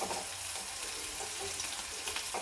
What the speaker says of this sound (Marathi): छान आपला कांदा बघा सोनेरी रंगावर